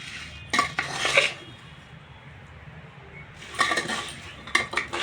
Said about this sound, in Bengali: ভাতটাকে ভালো করে মিক্স করে নেবো।